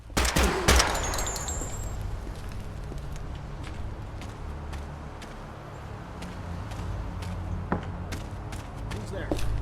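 A 5.56 rifle in Project Silverfish fires at a slow rate, sharp loud shots at the start followed by scattered fainter shots over a constant low rumble of game ambience.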